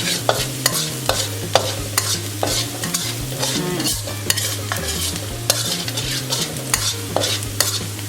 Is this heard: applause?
no